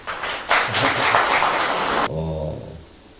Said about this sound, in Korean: 오늘 발표해 주시려고 멀리서까지 오신 분들 박수 한번 쳐주시기 바랍니다